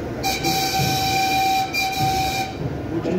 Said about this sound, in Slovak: Lokomotíva má dvojtaktný motor.